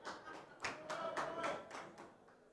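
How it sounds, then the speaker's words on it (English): A small group of spectators at a 10-ball pool match claps in a loose rhythm. There are about eight distinct hand claps, fairly faint and close together, with a quiet room tone between them. "they're over here clapping for Mike"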